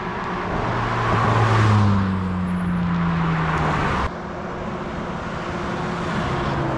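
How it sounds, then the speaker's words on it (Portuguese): Large truck passing close on highway BR-365 at sunset, a loud whooshing roar of engine and wind that swells and fades, with a low droning tone sliding downward as it goes by. "O caminhão passa, o vento é muito grande"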